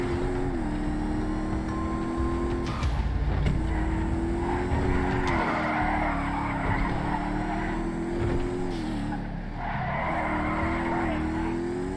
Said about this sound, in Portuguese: Que carrozinho da hora pra dirigir